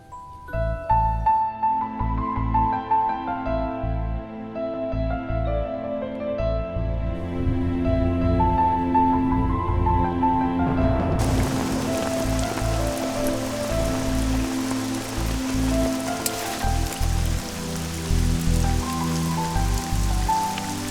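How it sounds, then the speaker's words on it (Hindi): Steady rain falls outdoors on a city street, a constant hiss that grows louder and brighter midway, running beneath melodic film music. "बारिश भी थोड़ी कम हो गई है।"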